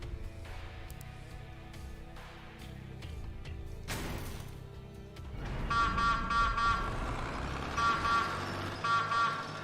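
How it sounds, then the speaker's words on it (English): A vehicle horn in the Xbox game Crossout, an old-fashioned WWI-style car horn, sounds in several repeated honking bursts over a steady engine drone, loud and close in the second half. "Kinda sounds reminiscent of a World War I era car horn, right?"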